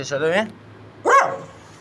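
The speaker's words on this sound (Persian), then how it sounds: "نگاه کن سگ به این قشنگی" A dog gives two short, close barks with a quiet gap between them, indoors.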